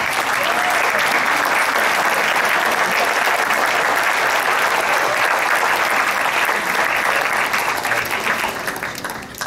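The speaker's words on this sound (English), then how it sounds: "let's give them a round of applause" Sustained applause from an audience honouring youth award recipients at a church centenary award presentation, dense and steady clapping filling the room for several seconds before tapering slightly at the end.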